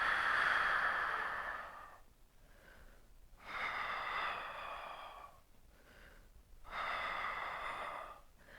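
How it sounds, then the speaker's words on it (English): Deep breathing during an advanced Pilates abdominal exercise: slow, audible breaths in and out with long airy whooshes, three big exhales separated by quieter inhales, close and soft. "Breathe in, breathe out."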